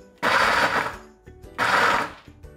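A blender whirs in two short, loud pulses, starting and stopping abruptly with a brief lull between them.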